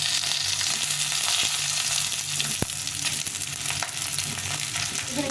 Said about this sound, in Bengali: এখন আমি এর মধ্যে বেগুনটা দিয়ে দেবো এর সঙ্গে বেগুনটা ভেজে দিচ্ছি